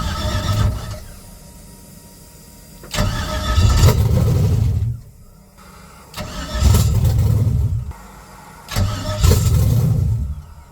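A budget drag car engine cranks in repeated bursts, about four attempts, each a loud rough churning that catches briefly before dying, with short quiet gaps between tries.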